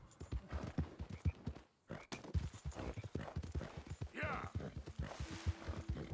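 In the video game Red Dead Redemption 2, a horse walks along with steady, rhythmic clip-clopping hooves, and a brief whinny is heard while a person talks over the sound.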